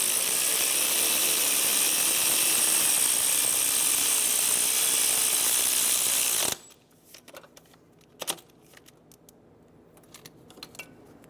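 A ratchet snugging down a bolt on a 2007-2012 Nissan Altima AC compressor, a dense loud run of rapid clicking that stops abruptly, followed by a few scattered metallic clicks and taps in near quiet.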